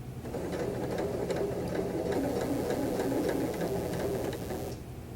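A sewing machine runs steadily for about five seconds, back stitching two pieces of fabric together around an outside curve, with a continuous close mechanical whir and faint rhythmic ticking before it stops near the end.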